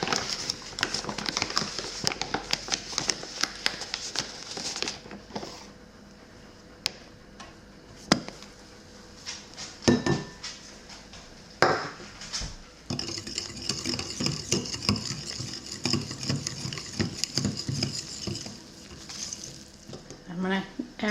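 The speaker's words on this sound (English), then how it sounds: "Now, I'm going to add 1 cup of flour and then mix it in." Flour is mixed into bread dough in a bowl for an Amish country loaf, with uneven rhythmic scraping, thumping and squishing of a spoon against the bowl, close and quiet, pausing partway through.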